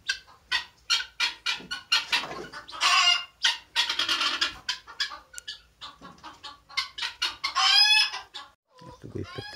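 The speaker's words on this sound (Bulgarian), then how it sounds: "Това са малки кокошчици джинки." Small bantam chickens cluck in a rural poultry yard: a busy run of short, choppy clucks and squawks in quick irregular bursts, close and fairly loud, with a few longer drawn-out calls mixed in and no voices.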